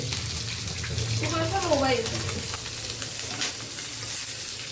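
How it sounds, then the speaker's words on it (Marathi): Paneer frying in oil in a home kitchen pan, giving a continuous close sizzle with a brief tonal squeak of stirring partway through. "फ्राय होत आहे एवढा तेल टाकले त्याच्यात करपलं ते"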